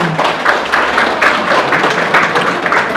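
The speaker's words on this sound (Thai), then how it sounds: "ขอเสียงปรบมือให้กับเท่าแก่ทั้งสองฝ่ายด้วยค่ะ" Dense applause from guests honoring the elders of both families at a Thai engagement ceremony, a steady crowd of hands clapping loudly and close for the full stretch.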